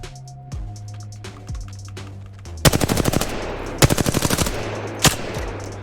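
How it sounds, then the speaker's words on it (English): Rapid automatic gunfire rings out in a video game as targets are shot, with two loud bursts of evenly spaced shots and a single crack later, over quieter game sounds and low tones. "We're going to take a couple more shots of these targets"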